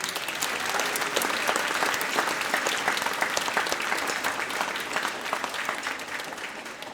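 A school spring music program audience applauds steadily for about seven seconds, a dense, even clatter of many hands filling the room with no voices standing out.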